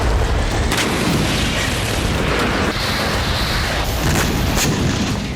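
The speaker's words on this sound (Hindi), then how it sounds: "क्रीमिया की धरती एक के बाद एक कई धमाकों से दहल उठी।" Missile explosions strike Crimea at night, a dense continuous rumble of deep booms and blasts with a few sharper bursts, loud and sustained without a break, no talk.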